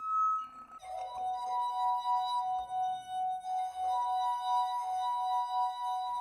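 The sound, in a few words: champagne tingling in a glass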